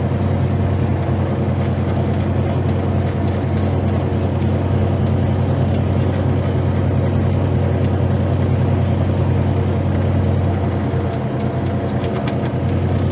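A tractor pulling a Kukhman potato digger works a potato field with a steady, loud, droning engine rumble that holds unchanged throughout, close by, with a faint mechanical rattle and no talking.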